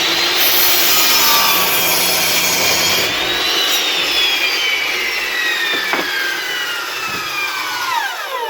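A Metabo 10-inch compound miter saw cuts through a pressure-treated 4x4, with a loud, steady, high-pitched whine grinding through the wood and the motor tone dropping and winding down near the end.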